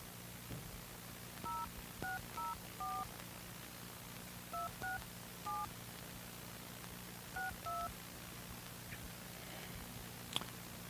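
Touch-tone telephone dialing tones for an international call to Northampton, England, sound over a radio broadcast line. Several short beeps come in uneven clusters with pauses between them, set against a steady low hum and faint clicks.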